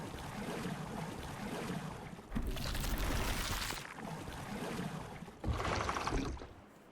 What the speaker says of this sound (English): The water's flowing in there.